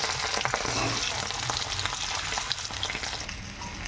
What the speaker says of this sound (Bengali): এই সিদ্ধ করা আলুটা তেলের মধ্যে দিয়ে একটু ভেজে নেব।